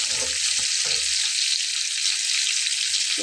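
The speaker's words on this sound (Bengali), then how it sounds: "ঝাঁকিয়ে দিয়ে একটু কড়া করে ভেজে নিলেই হয়ে যাবে" Parshe fish frying in a pan that gets shaken now and then, a steady loud sizzle throughout with a few low clattering knocks of the pan near the start.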